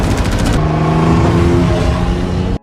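A car drives off, heard as a loud, close engine roar that rises steadily and holds, then cuts off abruptly.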